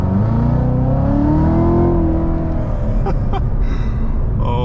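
A C7 Corvette Z06 (Z07 package) with stock exhaust revs hard with a loud, rising exhaust roar that holds steady, then drops with a few sharp pops and crackles.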